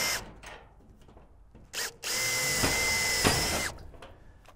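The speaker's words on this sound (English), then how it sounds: "drill a hole." A power drill bores a hole through the side door of an Absco metal bike shed while fitting a hasp over the pad bolt, with a brief whir and then a sustained, loud, close high-pitched whine lasting about two seconds before stopping.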